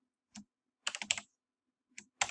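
Keys tapped on a computer keyboard while an equation is entered: a single tap, a quick run of clicks, then two more short bursts, close and fairly quiet.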